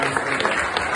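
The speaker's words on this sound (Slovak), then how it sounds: "Takže veľký potlesk" Audience applause at a charity auction, a dense steady wash of clapping from a crowd filling the whole second at moderate level.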